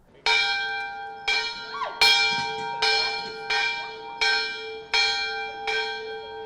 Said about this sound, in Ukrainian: Експозицію відкривають, вдаривши у старовинний дзвін.